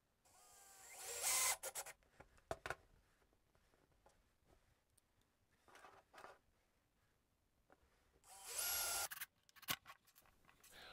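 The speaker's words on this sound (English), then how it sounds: "Now we're gonna take some screws and our drill, and I'm going to affix this floor flange" A power drill whirs in two loud bursts several seconds apart, with shorter clicks and brief whines of screws being driven between them, fixing a floor flange to a piece of 2x4.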